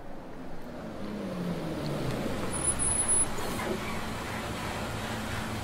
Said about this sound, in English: The sound of an engine working brought me back to reality. The bus pulled over.